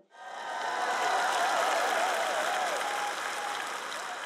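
A church congregation claps during a sermon, dense steady applause swelling in quickly and sustained to the end, with a faint tonal whine running through it.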